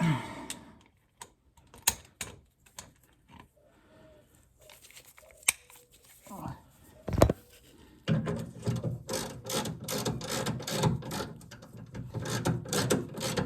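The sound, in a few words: ratchet tightening bolts on Mazda MX-5 gearbox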